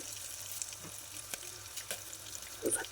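Green chillies fry in a pan with a steady soft sizzle, a few faint clinks and stirs breaking through, while cooking a bottle gourd dal; no one speaks.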